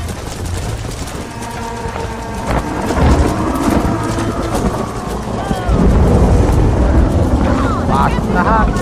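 In Red Dead Redemption, a thunderstorm rolls overhead with deep rumbling thunder swelling loudly over continuous heavy rain, with a voice briefly audible in the mix.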